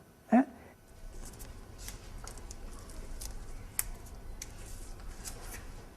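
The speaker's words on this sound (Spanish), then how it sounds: "Ponemos cinta adhesiva, los 2 dedos juntos." Adhesive tape is pulled and wrapped to bind an injured finger to the healthy one beside it: one short, sharp rip near the start, then faint rustling over a low steady background.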